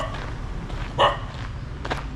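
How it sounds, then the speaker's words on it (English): A small dog gives a single sharp bark at night at a guesthouse in Sri Lanka, brief and fairly close, over a steady low background hum, with a fainter sound a moment later. "Hey, little doggy."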